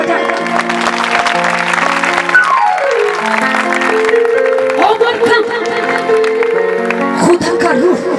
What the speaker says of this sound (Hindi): आइए उसके रूह के लिए भरपूर तालियां बजाएं।